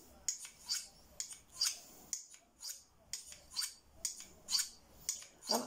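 A Rough Rider skinner knife with its factory edge is drawn along a sharpening system, giving about a dozen rhythmic, close scraping strokes with brief pauses between them, and no voices.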